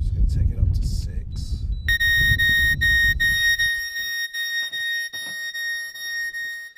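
A Bluetooth speaker connected to an Axiom marine plotter sounds an electronic alarm: a sustained high tonal beeping that starts partway through, preceded by someone talking, with low engine-like rumble early on.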